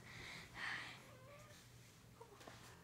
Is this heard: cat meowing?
yes